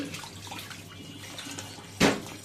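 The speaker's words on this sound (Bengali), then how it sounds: "এই যে 2টা তাল নিয়ে আসছি, ভালো করে ধুয়ে" Two palm fruits being washed under running water: soft splashing and rubbing close by, then a louder, brief gush of pouring water near the end.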